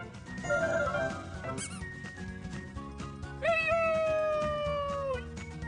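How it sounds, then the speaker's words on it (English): A cat meows twice, a short call then a longer, drawn-out meow, close and clear over quiet background music. "C is for cat."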